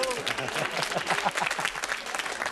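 A studio audience at a 1979 television game show applauds in a dense, steady burst of clapping that fills the whole moment, with a voice faintly audible underneath.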